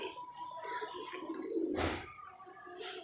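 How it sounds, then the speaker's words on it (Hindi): A Lakha pigeon coos quietly a few times, with a brief louder rustle or flutter in the middle against a quiet background. "ये लाखा कबूतर है और ये भी कबूतर जोड़े डलता है"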